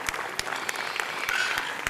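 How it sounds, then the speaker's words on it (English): Audience applause for junior exhibitors at a county livestock show's gilt competition, a steady patter of clapping from a modest crowd with a few louder nearby claps standing out through the short burst. "give these kids out here a round of applause with the champion here this evening"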